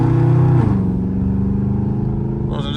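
A Dodge Charger Scat Pack with a loud exhaust revs and drones on the street, its deep exhaust note loud and close, shifting pitch partway through and rising again at the end, with no talk over it.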